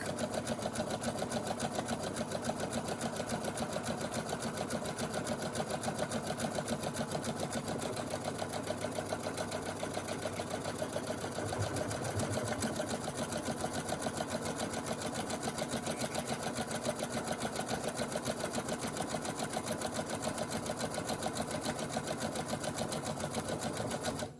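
A Brother SE1900 sewing machine stitching on its own, a steady fast mechanical whir with rhythmic needle clatter running loud and unbroken for the whole stretch, with no voices over it.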